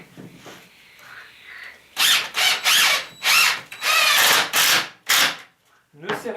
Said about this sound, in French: avec une vis de 70, on va pouvoir les assembler 2 à 2